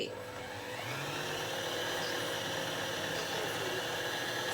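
Sewing machine winding a bobbin, which stops by itself once full, a steady continuous motor whir at an even pitch, close and moderately quiet, with no speech.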